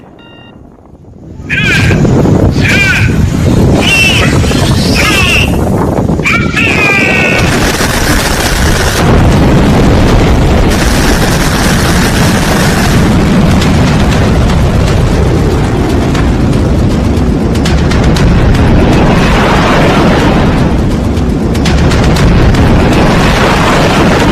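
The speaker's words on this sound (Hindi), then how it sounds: "किम जोंग ने एक के बाद एक कई मिसाइलों का टेस्ट कर लिया है" North Korean missile test launches send out a loud, continuous roaring rumble that fills the whole stretch after a brief quiet start, with blasting, booming texture throughout.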